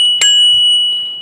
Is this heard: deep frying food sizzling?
no